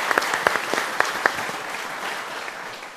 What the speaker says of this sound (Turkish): Onlara da kocaman bir alkış gönderelim.